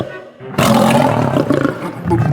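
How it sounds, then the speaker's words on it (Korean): A lion roars in a vineyard as a sound effect in a children's audio Bible story about Samson: after a brief hush, one loud, close, sustained growling roar fills the rest of the moment. "그런데 딥나의 포도원에서 사자가 나타나 삼손에게 소리를 질렀어."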